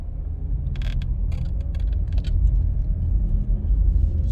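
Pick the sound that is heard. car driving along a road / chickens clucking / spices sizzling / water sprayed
car driving along a road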